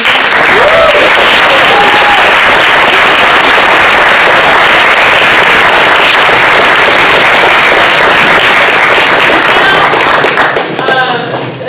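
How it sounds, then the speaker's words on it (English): Sustained, dense applause from a large audience at a reading and theater production, loud and close, holding steady for about eleven seconds before tapering off at the end. "let's give a nice round of applause to the man who built this piece"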